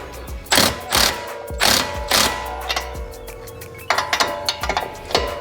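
A ratchet tightening a coilover bolt on a 2008–2014 Subaru WRX G3 sedan, loud close-up bursts of rapid clicking in repeated strokes with short pauses between, no talk.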